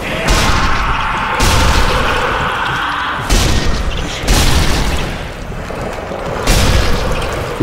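Gunshots in the Nazi Zombie Army video game, a series of loud booming reports spaced about a second apart, each followed by a short rumbling decay.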